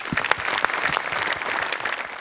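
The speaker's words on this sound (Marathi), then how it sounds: "सोनी मराठीसाठी जोरदार टाळ्या" A studio audience at a Marathi comedy show claps loudly, a dense burst of applause from many hands with sharp individual claps standing out, sustained throughout and with no talking over it.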